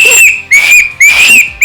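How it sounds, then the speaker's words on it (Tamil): Three sharp, loud whistle blasts sound in quick succession at home, each a steady shrill tone that rises briefly at its start, used to call people in to eat. "அண்ட் இங்க வந்து ஒரு விசில் மாதிரி வச்சிருப்பேன்"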